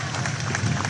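Crowds along the streets of Rome applaud as the late pope's coffin passes in a slow procession, a dense wash of clapping and murmuring voices from a large gathering, held steady for a brief moment.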